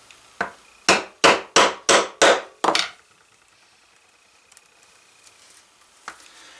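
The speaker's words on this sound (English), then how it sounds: "We'll just do that with our single prong punch." Six sharp, evenly spaced hammer strikes on a single-prong leather punch going through one layer of leather, a quick knocking rhythm, followed by quiet and one fainter tap near the end.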